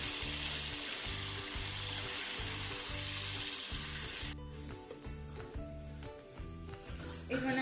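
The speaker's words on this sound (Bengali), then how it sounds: "এরপর আলু আর কচুগুলোকে একটু লাল করে ভেজে নেব।" Pieces of potato and taro fry in hot oil for a fish curry, giving a loud, steady sizzle that cuts off abruptly halfway, leaving quieter kitchen sounds over a rhythmic background music loop.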